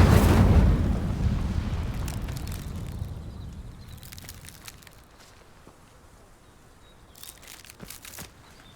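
An Incendio fire spell from Hogwarts Legacy bursts with a loud whooshing, roaring blast up front, then fades into softer crackling and faint scattered debris sounds.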